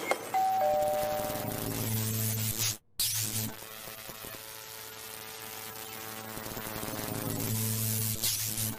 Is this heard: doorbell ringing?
yes